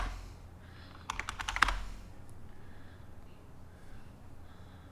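A short close burst of computer keyboard typing, a quick run of crisp key clicks ending with a firmer keystroke, followed by quiet room hum.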